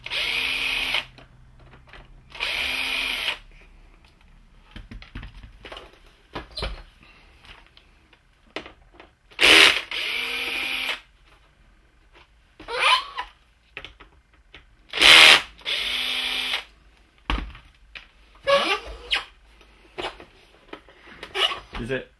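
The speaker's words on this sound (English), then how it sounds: "take these screws off." A power drill removes screws from a Promethean PRM-20A projector in repeated loud whirring bursts of a second or two each, with pauses between them and someone talking in the gaps.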